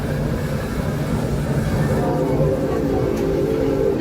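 Busch Gardens Tampa park train running past the Serengeti area, a loud, steady rumble of rolling wheels and carriage noise with a faint higher tone creeping in.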